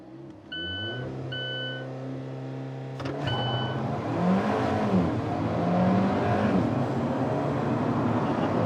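An Alfa Romeo 4C sports car idles with a few electronic beeps, then the engine roars up hard under launch control and stays loud as it accelerates away, close by.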